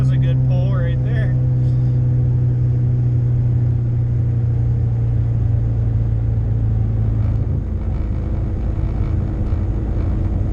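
A Dodge SRT4 with a factory turbo and homemade boost scramble button pulls hard, a steady loud engine drone and rumble building through the run, with voices talking over it.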